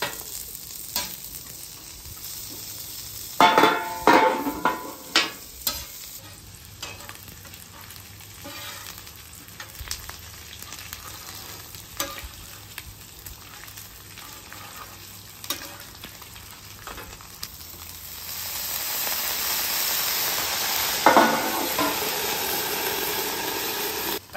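Fresh green beans sizzle on a flat-top griddle set to low, with soft continuous frying hiss, scattered scraping and stirring knocks, and a louder sizzling surge near the end; no one speaks.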